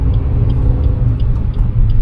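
A manual car's engine rumbles low and steady as it pulls away after shifting into second gear, a close, constant drone with no talk.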